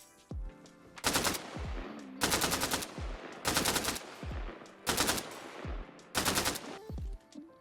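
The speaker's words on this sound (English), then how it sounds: "The AK-12 has 3 modes. It has the single fire, it has the double tap or burst fire, and it has full auto." Bursts of full-auto fire from an AK-12 rifle in the video game Arma Reforger, five loud, sustained strings of rapid shots separated by short pauses, with no talking.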